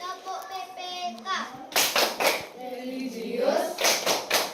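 Schoolchildren perform the Tepuk PPK clapping chant in a classroom, voices chanting in rhythm broken by bursts of sharp, synchronized group claps, with an adult voice leading.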